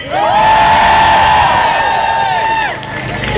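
A large crowd at a rally against UK government cuts screams and cheers loudly on a speaker's cue, a sustained roar with whoops that swells and then slowly fades.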